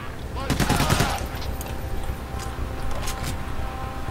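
Rapid automatic gunfire in the co-op heist video game Payday The Heist, a dense burst of shots early on, then scattered fainter shots over a steady background of game noise.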